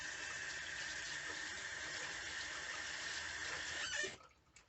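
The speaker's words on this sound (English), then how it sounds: "Let me just wash my hands." Hands being washed under a running sink tap, a steady close hiss of flowing water that cuts off abruptly near the end, quiet overall and without talk.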